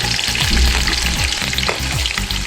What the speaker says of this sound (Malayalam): അപ്പോൾ നമ്മൾ സവാള ഇറക്കി കൊടുക്കുവാണ്.